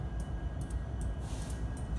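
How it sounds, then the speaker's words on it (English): A freight train rolls along the southbound track toward Nogales, a faint, distant, steady rumble with light rhythmic clatter, no talking. "So here we have a train"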